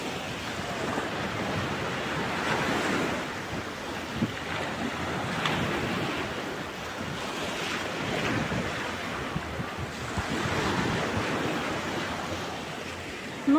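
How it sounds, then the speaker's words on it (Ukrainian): Ocean waves surge and wash in repeated swells, with steady wind rushing across the microphone throughout. "послухайте хвилі, як шумлять"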